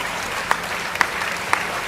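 Audience applause at a Hindi kavi sammelan satire recitation: steady, moderately loud clapping from a crowd throughout, with a few sharper individual claps standing out, no voices.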